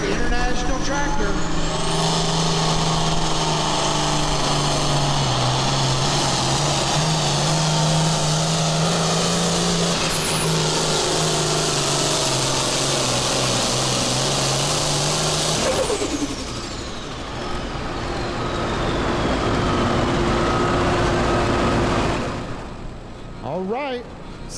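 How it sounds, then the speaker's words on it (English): An over-engineered International pulling tractor at a Missouri State Fair tractor pull roars loud and sustained, its engine pitch wavering and climbing under strain before the noise thins and drops away near the end. "Going to be pulling the over-engineered International Tractor."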